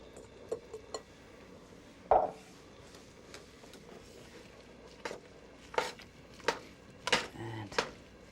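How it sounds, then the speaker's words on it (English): Escarole added to a pot of bean soup in a kitchen, with scattered soft clinks, rustles and stirring knocks of utensils against the pot and a sharper clatter, all fairly quiet. "I'm going to add the escarole."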